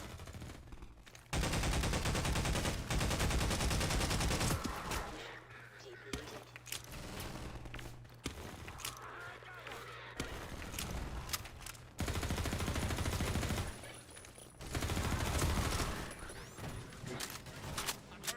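Rapid gunfire in Half-Life 2 with the MMod mod, in a prison level, comes in loud sustained bursts separated by brief lulls, close and dense, with voices heard between volleys.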